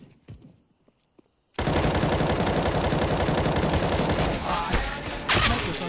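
Rapid automatic gunfire in CS:GO erupts abruptly after a few quiet clicks and steps, a continuous loud burst of shots lasting around four seconds with slight variation near the end.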